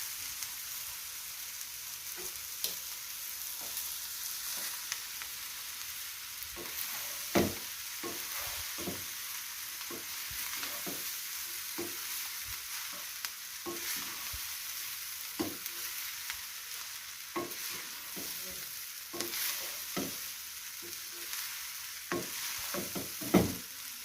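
Steamed rice is stir-fried in a hot pan for chicken manchurian fried rice, giving a steady close sizzle broken by frequent scraping and tossing strokes of the spatula, with no talking.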